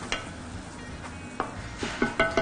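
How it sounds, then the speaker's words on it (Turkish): A spoon stirs purslane soup in a pot: soft scraping and swishing against a steady low sizzle, with a few sharper clinks of metal on the pot toward the end. "Evet şöyle bir karıştıracağım."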